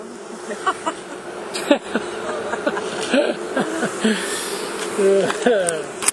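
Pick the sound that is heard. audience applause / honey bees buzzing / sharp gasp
honey bees buzzing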